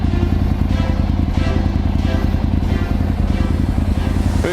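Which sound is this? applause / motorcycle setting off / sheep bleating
motorcycle setting off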